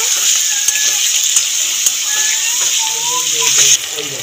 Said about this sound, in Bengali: টমেটো, আদা, কাঁচা লঙ্কা পেস্ট দিয়ে একটুখানি কষিয়ে নেব।